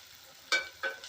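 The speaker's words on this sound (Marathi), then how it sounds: "बगी पण आपली जरा फ्राय झालेली आहे थोडी" Dried bagi fish crackling in a hot pan, a soft sizzle with two or three brief bursts of frying sound, fairly quiet and close with no talk.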